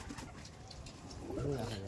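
Pigeons cooing and fluttering close by, a soft, restless murmur of calls swelling louder toward the end over a faint background.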